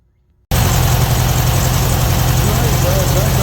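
A 1968 VW Beetle engine starts abruptly after near silence and then runs steadily at idle after a tune-up on its points. It is loud and close, with a constant rumble and no talk over it.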